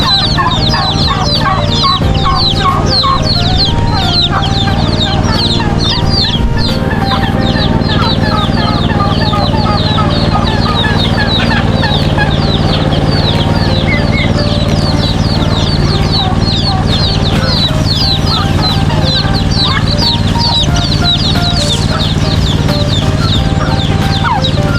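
Chickens at a poultry farm cluck continuously and loudly nearby, a dense, busy chorus of overlapping calls that goes on without a break.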